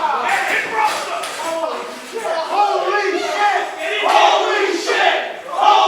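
A live indie wrestling crowd roars and shouts in disbelief, a loud surging mass of voices with a commentator talking over it.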